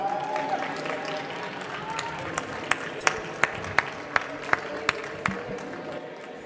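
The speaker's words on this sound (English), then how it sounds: "a big round of applause for our guest today" A small teaching-academy audience claps for a guest speaker: a thin run of separate, crisp claps, fairly evenly spaced, with low murmuring in the background.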